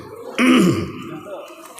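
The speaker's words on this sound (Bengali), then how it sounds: "কাশি আসছে" One short, harsh throat-clearing cough, close and loud, followed by a brief quieter rasp.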